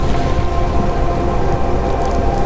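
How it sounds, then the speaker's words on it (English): Heavy rain pours down steadily in a raging storm, a dense continuous hiss of falling water with a low rumbling undertone throughout, loud and close with no voices. "For 40 days and nights, rain poured relentlessly."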